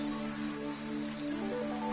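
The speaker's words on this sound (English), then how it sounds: "Vam and Taros followed Yim as she walked through the downpour" Steady rain falls in the video game Fantasian Neo Dimension, a dense, even hiss of drops over a sustained musical drone, with no voices.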